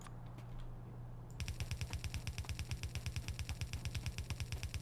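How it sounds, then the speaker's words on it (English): Explosives blasting cliffs in the Factorio video game: after a brief lull, a rapid, even string of sharp bursts rattles on steadily at close range, with no talking. "More cliff explosions,"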